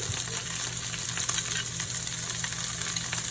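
Jimmy Dean sausage fries in a pan with a dense, steady sizzle and crackle that is close and fairly loud throughout.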